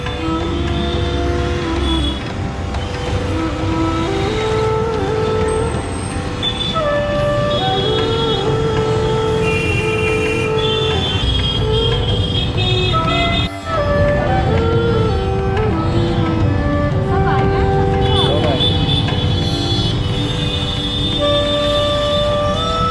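Busy street traffic in Varanasi, India, with tuk-tuks, cars and cows in the road: a dense, continuous din of engines and many overlapping horn blasts, loud and close throughout.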